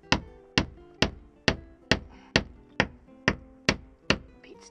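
Hammer blows below deck on a boat, driving out a through-hull fitting: about eleven sharp, evenly spaced metallic strikes with ringing decay, close and loud, no talk.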